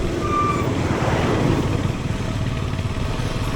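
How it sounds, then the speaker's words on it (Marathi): A truck grinds along a steep, narrow mountain road on the route to Leh, heard from a motorcycle. Its engine gives a loud, steady roar close by, with a brief tonal beep near the start. "हा ट्रक कसा आला बघा."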